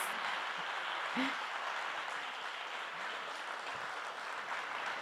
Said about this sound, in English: I think we need a big applause for you all.